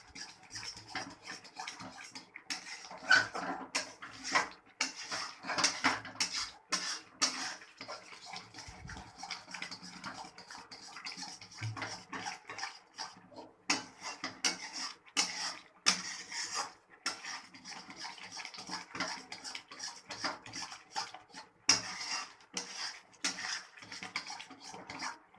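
Khoa (milk solids) being stirred continuously in a pan, a steady run of close scraping and scratching strokes that keeps going with no pauses and no voices.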